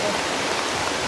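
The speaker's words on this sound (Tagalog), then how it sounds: "Sobrang lakas ng ulan no?" Heavy rain pours down in a dense, steady roaring hiss that stays loud and unbroken throughout, with no voices over it.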